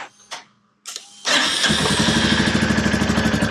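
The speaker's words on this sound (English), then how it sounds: "now what I'm going to do is I'm going to run the bike" A Royal Enfield Meteor 350 motorcycle with catalytic converter removed cranks with a couple of brief whirs, then catches and settles into a loud, steady, throbbing idle close by.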